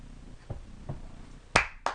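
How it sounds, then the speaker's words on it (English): A seven-month-old baby claps her hands, making a few soft, irregular pats and then two sharper, louder claps close by in a quiet room. "Oh, she can clap and she can wave."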